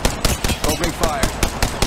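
Rapid automatic gunfire in the mobile battle royale game Apex Legends Mobile, a close, loud burst of evenly spaced shots about four or five per second, with a ricochet-like whine mid-burst.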